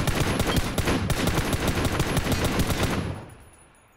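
Rapid machine gun fire from a PC video game rattles in a dense, loud continuous burst for about three seconds, then cuts off and leaves a fading tail.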